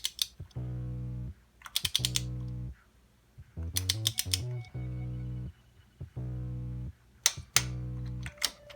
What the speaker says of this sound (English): grab right on to the spark plug and down to 13 foot-pounds